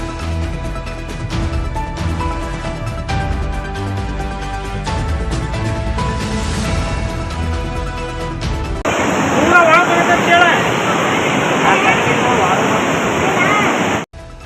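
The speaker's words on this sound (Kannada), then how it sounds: "ನಿನ್ನೆ ರಾತ್ರಿ ಸುರಿದಂತಹ ಭಾರಿ ಮಳೆಯಿಂದಾಗಿ ದೇವಸ್ಥಾನದಲ್ಲಿ ನೀರು ಪ್ರವಾಹದ ರೀತಿಯಲ್ಲಿ" Heavy floodwater pours and rushes through a temple after a night of heavy rain, a loud continuous roar like a waterfall that grows broader and harsher midway, with no talk over it.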